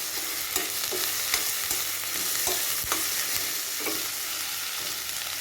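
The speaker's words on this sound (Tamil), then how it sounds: "தக்காளியும் நல்லா வதக்கி விட்டுக்கலாம்" Three medium tomatoes sauté with ginger garlic for an oyster mushroom biryani, a close, steady frying sizzle broken by repeated sharp scrapes of a spoon stirring the pan at a regular pace, with no talking.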